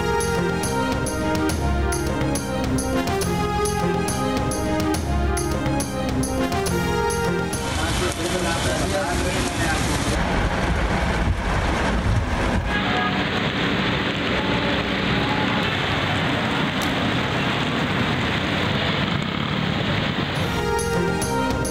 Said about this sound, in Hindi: कराची के मुख्तलिफ इलाकों में कहीं हल्की कहीं तेज बारिश